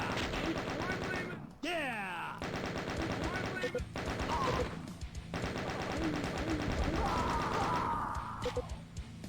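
Rapid automatic gunfire from a weapon in the video game Wolfendoom, a dense fast rattle running almost without pause over game sounds, with a few brief gaps and a voice talking over it.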